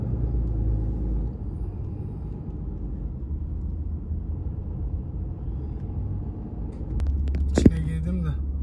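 A truck driving with a steady, deep engine rumble throughout, a brief louder rise near the end, while someone talks over it.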